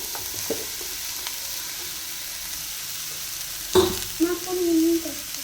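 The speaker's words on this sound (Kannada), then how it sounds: "ಎಲ್ಲ ಹಸಿ ವಾಸನೆ ಆದಮೇಲೆ ತೊಳೆದು ಎತ್ತಿಟ್ಕೊಂಡಿರೋ ಹೀರೆಕಾಯಿನ ಹಾಕೊಳ್ಳೋದು." Ridge gourd dropped into a pan of frying onions, giving a sudden clatter followed by a rising sizzle and stirring scrapes, close and moderately loud over a faint steady hiss.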